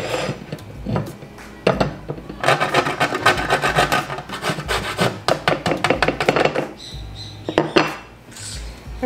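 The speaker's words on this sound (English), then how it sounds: "So here I'm going to grate my nutmeg." Whole nutmeg is grated by hand on a metal grater in a home kitchen, giving bursts of quick, raspy scraping strokes separated by short pauses, close and fairly loud, with no talking.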